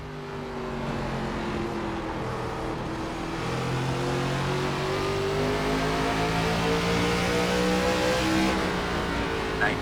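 Several ARCA Menards race car engines roaring together in iRacing at Kern County Raceway, a steady loud drone with rising and falling pitch as cars run close in a pack, no talk heard.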